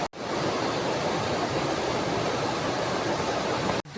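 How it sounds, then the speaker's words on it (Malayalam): Heavy, unbroken roar of a waterfall in pouring rain at Nelliyampathy, a dense steady wash of falling water close by that holds constant throughout before cutting off abruptly. "കിഡു വെള്ളച്ചാട്ടാ, ഒരു രക്ഷയില്ലാത്ത വെള്ളച്ചാട്ടാ അല്ലേ?"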